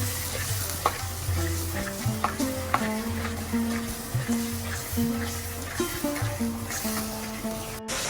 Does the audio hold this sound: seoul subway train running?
no